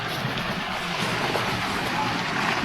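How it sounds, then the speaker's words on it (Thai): Hidden waterfall flowing beneath snow and ice, a loud steady rushing wash that fills the space without pause, heard alone. "น้ำตกไหลอยู่ข้างใต้นี้นะทุกคนได้ยินเสียงวะ"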